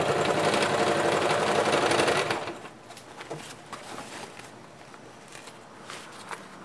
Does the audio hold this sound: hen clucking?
no